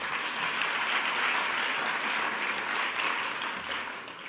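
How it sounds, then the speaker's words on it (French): Steady audience applause at a twitterature contest awards ceremony in Quebec, an even, moderately distant wash of clapping from a seated crowd with no voices over it. "On peut l'applaudir."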